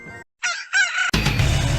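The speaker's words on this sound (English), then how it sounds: "Maybe it's the rooster." A rooster crows a full cock-a-doodle-doo in two or three rising, strained bursts, fairly close, before a sudden loud noisy burst cuts in afterward.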